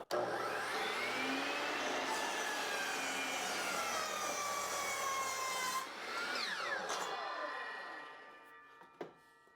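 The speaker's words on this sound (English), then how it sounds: "Adjust the saw so it cuts on an angle." A miter saw makes an angled 45-degree test cut through a wood baseboard, a loud sustained whining buzz with blade tones that rise and fall, cutting steadily for about six seconds before spinning down and stopping.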